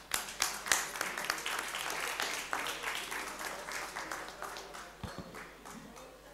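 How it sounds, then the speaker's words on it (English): Audience at a Pirate Parties International general assembly applauds to welcome a speaker, sustained crowd clapping with a few loud claps at first, fading gradually toward the end. "Please give him a hearty applause"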